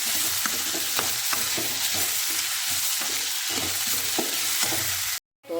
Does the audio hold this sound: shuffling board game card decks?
no